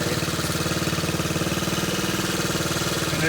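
A 1969 Honda CT90 motorcycle engine runs in gear, a steady, close, putting single-cylinder drone with fast regular pulses and no pauses.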